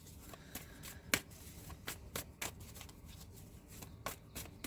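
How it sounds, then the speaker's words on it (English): A deck of tarot cards is shuffled by hand, giving repeated crisp riffling and flicking bursts in an irregular rhythm, close and fairly quiet with no talk. "Okay. So I'm going to shuffle."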